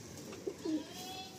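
A butterfly-type pet pigeon gives a couple of soft, low coos, faint and close against a quiet hiss of background room noise.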